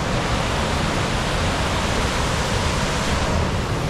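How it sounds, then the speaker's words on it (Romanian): Small mountain waterfall at Bâlea Cascadă, a steady close roar of falling water that holds even and loud throughout with no voices. "Chiar lângă o mică, mică cascadă."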